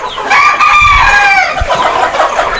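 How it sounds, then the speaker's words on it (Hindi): Chickens cluck and squawk close by while eating chickpeas, with a rooster's drawn-out crowing call rising over the flock; no talking. "सब मुर्गा और मुर्गी को चना दोस्तों। देखिए कब बहुत प्यारा से खा रहा है सब एकदम"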